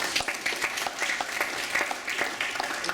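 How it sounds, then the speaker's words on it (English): An audience at a Black History Month campus event applauds their parents, a steady round of dense clapping from many hands filling the hall. "Now I want you to applaud your parents."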